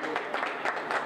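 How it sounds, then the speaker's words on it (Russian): Applause for a doctor after an operation at a hospital, heard as a brief, fairly faint patter of rapid hand claps in quick uneven bursts. "Громкие аплодисменты – достойная награда для врача"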